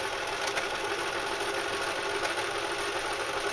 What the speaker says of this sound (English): Most sewing machines are a lot noisier than this one.